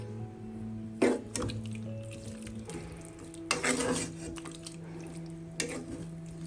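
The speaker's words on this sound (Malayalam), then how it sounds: "ഏകദേശം 10 മിനിറ്റ് കഴിഞ്ഞ് ഇനി നമുക്ക് ഒന്ന് ഇളക്കി കൊടുക്കാം" A spoon stirs chicken mulakittathu curry in a pot in a few scattered bursts of scraping and clinking against the metal, close but fairly quiet, with a low hum underneath and no speech.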